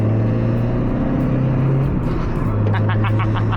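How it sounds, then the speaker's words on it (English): Mazda Miata engine during a downshift into third gear, a steady loud drone with the pitch shifting as the revs change, wind noise running underneath throughout. "Cheeky downshift into third."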